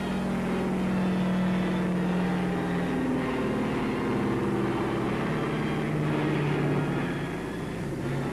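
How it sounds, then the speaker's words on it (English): A German reconnaissance plane from the Second World War drones steadily overhead, its engine hum loud and continuous with a slight swell around the middle, no voices present. "German reconnaissance plane."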